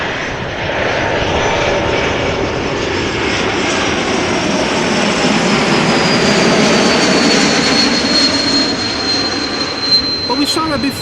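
A Lufthansa airliner passes overhead in a steady, loud broadband roar with a high whine rising toward the end, the engine noise holding strong for the full span with no break.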